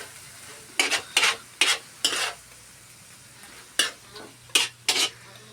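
Hotdog pieces sautéing in a pan for spaghetti, a soft steady sizzle broken by several sharp scraping stirs of a utensil against the pan, close and clear with no talking.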